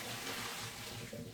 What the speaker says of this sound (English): Let the water drain out for a second.